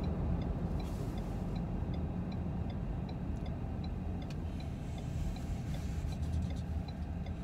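A 2019 Ford Edge ST AWD SUV being driven, heard from inside as a steady, loud engine and road rumble with faint regular ticking, like a turn signal, running underneath the whole time and no speech.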